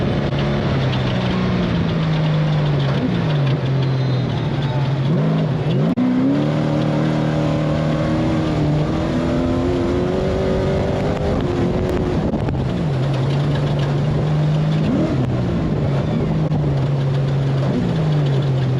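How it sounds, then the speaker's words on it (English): An off-road race vehicle at the SCORE Baja 400 drives toward the finish line, its engine a loud, continuous drone whose pitch rises and falls as it shifts and revs, with no talking over it. "your race leader right here, Alan Ampudia, coming into the finish line."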